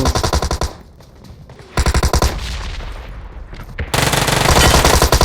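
Rapid automatic gunfire in a battle royale shooter game rattles in loud, dense bursts, one long stretch, a brief lull, then more sustained firing, close and without speech.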